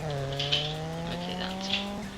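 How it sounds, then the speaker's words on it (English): A car brake-drifting in a racing video game on a dusty desert track, with a steady, sustained tire squeal riding over a constant engine drone for about two seconds. "Brake drift here. So just brake."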